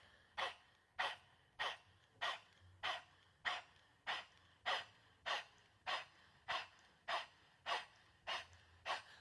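Rhythmic panting breath during a guided breathing exercise, about fifteen quick, even exhales through the mouth in a steady pulse, close and clear against a quiet room.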